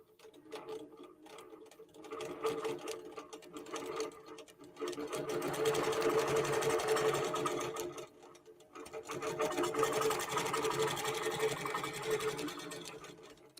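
A sewing machine stitches a quilt with a fast, steady mechanical whirr and ticking, in close bursts separated by brief pauses.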